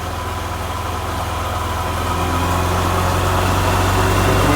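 A car engine runs steadily at high revs under load on a dynamometer in third gear near 5,000 rpm, a loud continuous drone with a low rumble that builds slightly toward the end.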